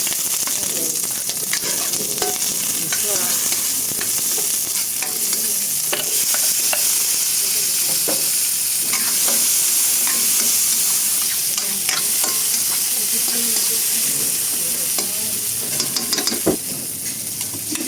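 Steady, close sizzling of tilapia frying in a hot pan, with crackles and pops scattered throughout and occasional stirring clatter.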